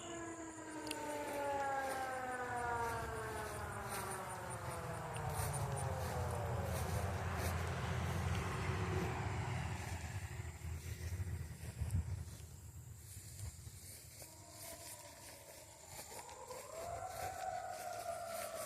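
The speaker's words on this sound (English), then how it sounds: "An ambulance or something. Fire engine." A siren wails from a distance, its pitch sweeping down in long slides before climbing again, with faint outdoor noise underneath.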